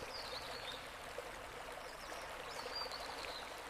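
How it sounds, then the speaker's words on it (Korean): Mountain waterfall flowing in a steady, fairly faint wash of falling water, continuous and even throughout with no voices. "산속의 폭포가 힘차게 흘러내리는 그 물줄기를 바라보세요"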